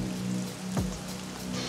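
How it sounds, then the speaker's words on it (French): Steady rain hisses on the A7 motorway during a day of heavy rain and strong winds, a dense wash of noise with a low engine hum running beneath it. "en raison de la pluie et des vents violents"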